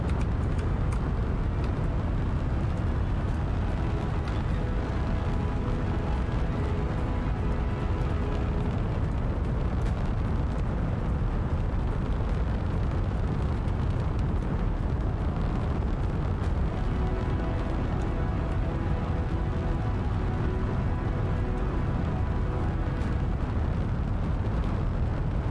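Rocket engines roar during a launch in Kerbal Space Program 2, a loud, continuous, dense rumbling blast that holds steady at full strength for the whole stretch with no let-up.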